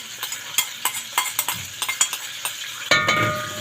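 Onion going into a hot frying pan for Egyptian koshari tomato sauce, giving a close sizzle broken by sharp clinks and scrapes of a utensil against the pan, with a louder burst of frying near the end.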